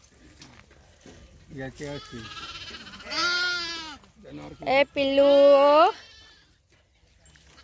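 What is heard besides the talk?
sheep bleating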